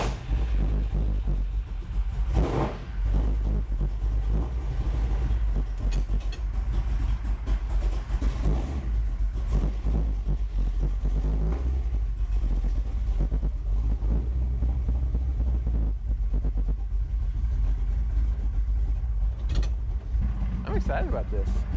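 A big block Chevy engine with a Holley mid-mount accessory drive runs with a steady low rumble, with a few louder surges along the way; no talk is heard.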